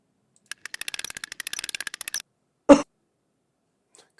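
A single short cough sound effect from a Scratch sound library, one abrupt burst that follows a run of rapid, light clicking and then gives way to near silence.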